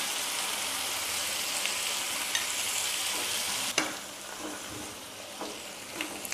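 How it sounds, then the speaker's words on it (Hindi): Tomatoes with a little salt fry in a pan of lightly browned onion for a malai kofta gravy, giving a steady, close sizzle with a sharp stirring clatter midway and softer scrapes after. "टमाटर को भी हल्का सा भून लेंगे"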